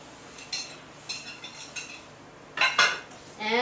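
A utensil clinks and scrapes against a bowl while cocoa powder, sugar, baking powder and baking soda are mixed for a moist chocolate cake, in several short, light stirring bursts.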